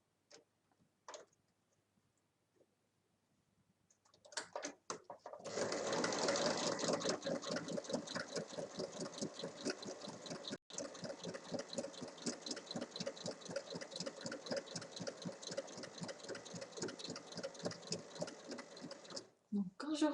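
A sewing machine stitches fabric in a fast, even mechanical chatter that starts after a few quiet seconds, runs steadily close up and stops near the end, with a little talk before it begins.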